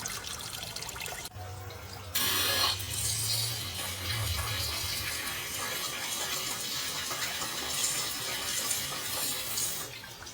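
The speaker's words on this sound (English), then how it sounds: "So we're gonna take our hose, shoot it, and then we come down here and watch it drain out." Water from a hose flushes through a Jeep heater and drains out in a steady rushing, splashing stream, with a low gurgle early on before the flow settles.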